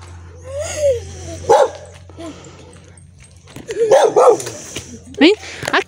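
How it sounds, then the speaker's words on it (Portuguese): A black dog barks in short sharp bursts and yips, close and loud, mixed with whimpering between outbursts while people talk nearby. "o cachorro preto ali"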